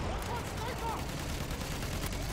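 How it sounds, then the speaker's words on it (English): Enemy machine-gun fire in a war video game rattles on in a steady, dense stream at moderate distance, with a voice faintly audible underneath. "There, enemy machine gun."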